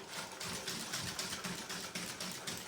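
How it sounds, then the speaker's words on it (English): Brownie batter whisked in a bowl, a fast steady scraping and swishing rhythm at close range with no talk. "so I'm whisking it quite a bit so we can cool it down a bit before we put the eggs in"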